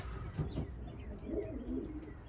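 Young pigeons in a loft, recently weaned, give soft low cooing calls with a few faint chirps over a steady murmur of background noise.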